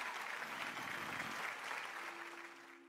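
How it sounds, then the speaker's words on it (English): A canned applause sound effect plays on a game stream, a steady wash of clapping heard faintly that fades near the end. "That one gets a clap."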